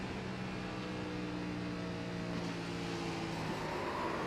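Race car engine in a Las Vegas Motor Speedway oval racing video game, heard from the cockpit: a steady droning motor with shifting tonal harmonics as the car comes off the brakes and tries to wind back up to speed, continuous and close.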